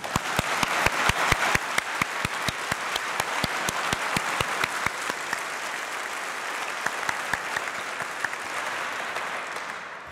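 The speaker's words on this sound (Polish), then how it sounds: "wznieśmy gromkie brawa dla nas wszystkich, za nas wszystkich" Sustained applause from a large audience at an awards gala, dense steady clapping with sharp individual claps standing out, holding loud throughout and tapering slightly toward the end.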